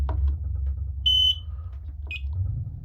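A building fire alarm system beeps during a test, giving two short, sharp high-pitched electronic chirps about a second apart over a low background hum.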